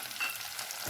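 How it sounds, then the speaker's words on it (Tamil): Curry leaves crackle in hot oil in a pan with onion and whole spices for vada curry, a short burst of steady sizzling with a faint stir near the start and no talk. "கருவேப்பிலை கொஞ்சம் போட்டுக்கிறேங்க."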